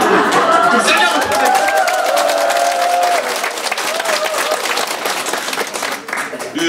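Audience applause at a cooperative briefing, fairly loud at the start and thinning out toward the end, with murmuring chatter and a voice mixed in under the clapping.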